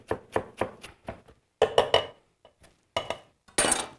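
A knife chops food finely on a wooden board in a historic cooking demonstration, with quick rhythmic bursts of sharp taps, a pause, then a few louder clusters of chopping close by.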